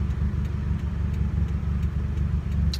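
Straight-piped 2015 Subaru WRX gives a deep, loud rumble nearby, pulsing unevenly as the engine burbles and lightly revs, with no voices.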